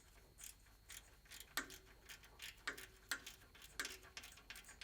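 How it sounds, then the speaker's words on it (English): A ratchet with an 11 mm socket tightens a bracket on a CBI T3 Covert half bumper with winch, giving faint, quiet, evenly spaced clicking in short runs, with no voices. "we can go ahead and tighten that down with an 11 millimeter"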